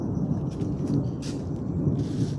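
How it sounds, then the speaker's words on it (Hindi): Steady rain patters throughout in a village, with low rumbling thunder rolling underneath; no voices. "बारिश फिर से शुरू हो गई है और ये बादल गरज रहा है"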